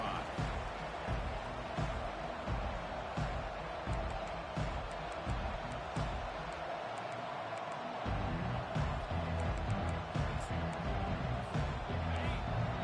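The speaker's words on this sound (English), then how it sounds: "Listen to the crowd energy here in the early going" A large crowd at a college football game between ECU and Utah keeps up a broad, continuous roar with scattered whoops and bangs, fairly distant and steady, while a commentator talks intermittently.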